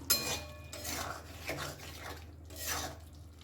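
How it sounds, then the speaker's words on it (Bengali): A spoon scrapes and stirs dry flour into a mixed vegetable curry in a pan, a few quiet rasping strokes with soft clinks of metal, close and low in level. "ওপর থেকে দিয়ে দিচ্ছি সামান্য একটু শুকনো আটা ভালো করে একটু আটাটা মিশিয়ে নেব"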